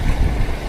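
A boat engine runs steadily at sea amid rough waves, a continuous low rumble filling the short clip without speech.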